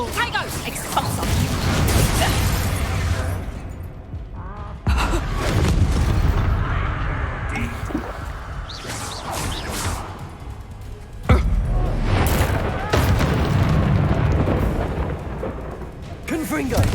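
Expulso explosive spell blasts in the Hogwarts Legacy video game, a run of loud booming bursts and rumbling combat noise with sharp attacks near 5 and 11 seconds, mixed with voices talking.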